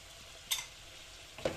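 Eggs stirred in a frying pan, two brief scraping clinks about a second apart over a faint sizzle.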